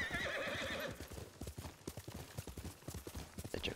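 A horse in the Ghost of Tsushima video game gives a loud neigh at the start, then its hooves drum a fast, steady galloping clip-clop that carries on to the end, with no talking.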